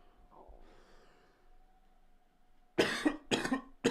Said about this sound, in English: Sorry for coughing all over you boys.